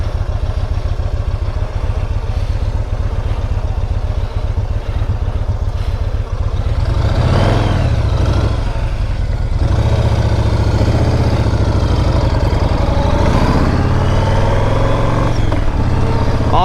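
A motorcycle is ridden along a flooded road, its engine a loud, close, continuous drone that rises and falls slightly with the throttle throughout.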